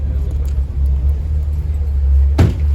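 A McLaren 720S supercar idles with a deep, steady low rumble at a city quayside supercar gathering, then a brief sharp engine burst near the end; voices mix faintly into the background.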